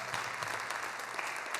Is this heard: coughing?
no